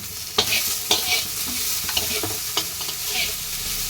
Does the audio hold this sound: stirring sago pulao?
yes